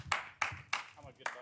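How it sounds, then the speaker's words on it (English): Clapping at an on-stage esports event, heard as four sharp, evenly spaced bursts, close and loud, with a voice talking underneath. "Round of applause, everybody, for everybody on this stage."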